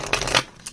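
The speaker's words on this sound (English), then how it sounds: "It does riffle shuffle." A stiff tarot deck being riffle shuffled, a short papery burst of flicking cards that rises, peaks, and fades, then a brief final snap, close up and moderately loud.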